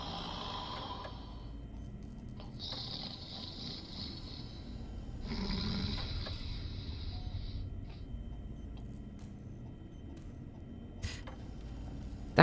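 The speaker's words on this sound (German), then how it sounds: "Und schnarcht." The Autodoc in the video game Fallout New Vegas snoring, with a few soft, breathy snore bursts spaced several seconds apart over a low hum.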